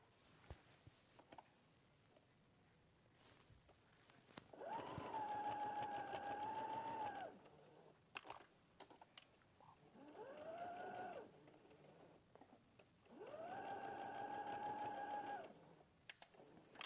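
A sewing machine stitching fabric for a dress skirt runs in three whirring bursts of a few seconds each, separated by quiet pauses, near and clear with no talk.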